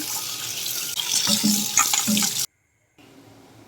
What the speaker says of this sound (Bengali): পুরো মাছটা কাটা হয়ে গেছে এবার আমি পরিষ্কার করে ধুয়ে নিচ্ছি